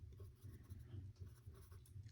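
Pen scratching across paper as a conclusion statement for a geometry proof is written out, a soft steady scratching that continues quietly throughout.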